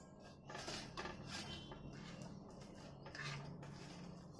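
Boiled pumpkin is mashed in a metal pot, with faint, soft repeated knocks and scrapes of utensil on metal in a quiet kitchen.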